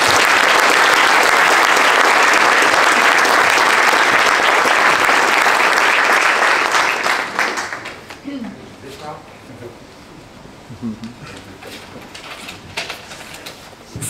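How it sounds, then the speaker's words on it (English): Loud audience applause at an architecture awards ceremony fills the first seven seconds, then fades to scattered claps and quiet room noise. "And one round of applause."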